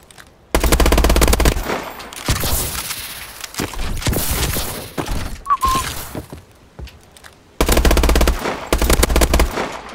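Gunfire in Call of Duty Advanced Warfare, loud rapid automatic bursts at the start and end with scattered shots, impacts and effects between them.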